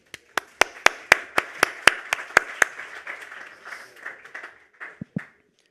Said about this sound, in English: applause please for Gabriele Zinni